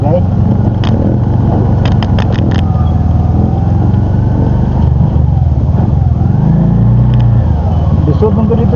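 A motorcycle rumbles steadily along a rough, potholed rural road, with its engine loud and close and occasional bumps and revs. People chat under the engine noise throughout.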